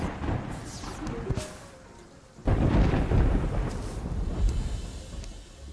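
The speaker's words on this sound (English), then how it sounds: "We have a pretty nasty storm going on right now." A nasty Terraria thunderstorm sends a loud, sharp thunderclap crashing in halfway through, followed by heavy rolling rumble over steady rain, with earlier quieter rumbles and no talk.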